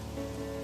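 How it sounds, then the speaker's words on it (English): Rain falling steadily on a surface, an even wash of dense patter at moderate level, with no talking. "Looks like it has started to rain."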